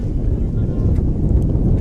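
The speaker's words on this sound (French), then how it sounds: "le vent vraiment là, qui s'intensifie" Strong diagonal wind buffets the microphone across an outdoor ultimate frisbee field during a mixed masters game, a steady loud low rumble that fills the whole stretch.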